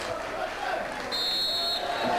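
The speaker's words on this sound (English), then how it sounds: "And there's the final whistle." A referee blows the final whistle to end a 2000/01 FA Cup match between Rushden & Diamonds and Grantham Town. One shrill blast of about a second cuts clearly through the steady hum of the crowd.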